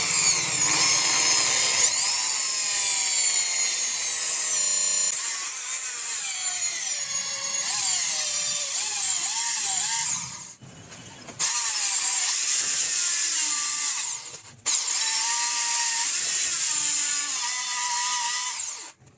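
A drill machine spins a Honda Activa starter armature while its face is resurfaced, giving a steady high-pitched whirring and grinding that runs loud and close for the whole stretch, with two short dips around the middle and no talking.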